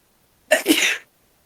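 A single sneeze from someone at a tabletop role-playing session, near and loud, lasting about half a second with a sharp burst and a short breathy tail, standing alone against silence.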